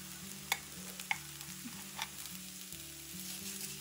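Amaranth leaves with peanut powder sizzle and crackle in a pan, quietly and close, with occasional sharp clicks and scrapes as the mix is stirred.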